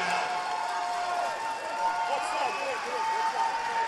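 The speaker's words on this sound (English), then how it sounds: "You hear this crowd behind us. They are absolutely roaring their approval." A girls high school basketball finals crowd in a gym roars and cheers steadily with loud, continuous approval, whistles and shouts layered over the sustained crowd noise.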